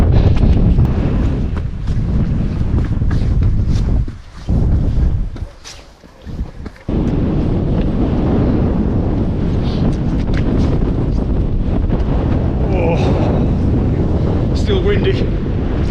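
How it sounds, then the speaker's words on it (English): Strong wind buffets the microphone on Chrome Hill in the Peak District, a loud continuous roar with brief lulls midway, and a voice speaks faintly near the end. "Still windy."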